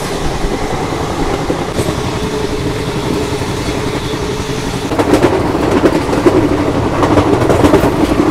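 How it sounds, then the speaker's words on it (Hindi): An express passenger train between Jammu and Varanasi runs at about 114 km/h, a loud continuous rumble with rhythmic rail clatter that grows heavier and harsher partway through, heard from inside the coach with no talking. "अभी हमारी ट्रेन जौनपुर से निकली और 114 की रफ्तार में दौड़ा रहे हैं इसको भाई।"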